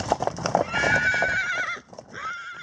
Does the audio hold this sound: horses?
yes